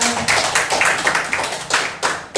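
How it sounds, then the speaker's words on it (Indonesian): Seminar audience at an SMK Negeri 3 Singaraja teachers' dissemination event clapping together in a short burst, a mix of overlapping hand claps at close range with no speech over it. "Tepuk tangan untuk kita semua"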